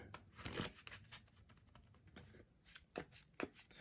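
Soft, quick riffling and flapping of playing cards being shuffled close by, in a few short bursts with brief pauses between.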